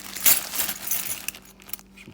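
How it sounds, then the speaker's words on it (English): Bunch of keys jangling and clinking together in a brief, bright metallic rattle, loudest at first and then trailing off into a few lighter taps. "Bunch of keys."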